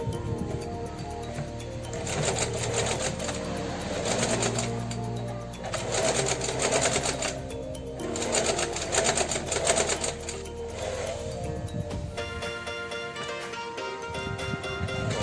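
A sewing machine stitches a homemade fabric face mask in several close, fast mechanical bursts with short pauses between runs, ending with a quieter stretch.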